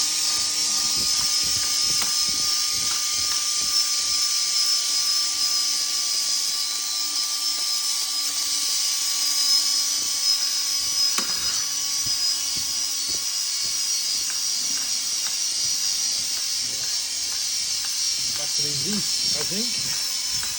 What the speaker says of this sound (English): let me clean it up first with the drill. I'm going to use this, just got like a wire brush on the end, a little Scotch-Brite brush.